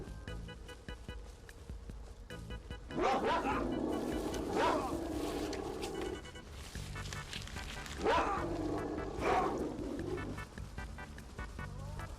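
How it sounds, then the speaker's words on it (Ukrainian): Dogs barking and snarling in the video game STALCRAFT, several bursts of aggressive barking in clusters amid a continuous game soundscape, moderately loud. "Відбиваюся від собак"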